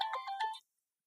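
A mobile phone ringtone plays a brief, bright electronic melody of a few quick notes, then cuts off abruptly into silence.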